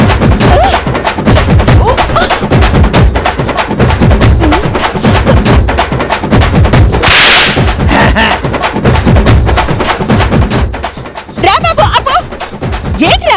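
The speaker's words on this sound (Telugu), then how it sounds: "నువ్వు సంతోషంతో డప్పు కొట్టావేంటి" A dappu frame drum is beaten in rapid, loud, rhythmic strikes throughout, with voices talking over the drumming.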